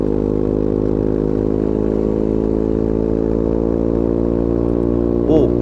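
A Honda ADV 150 scooter fitted with an aftermarket K-Race racing exhaust idles steadily and loudly up close, a low throbbing exhaust rumble that holds an even pitch throughout with no clear revving.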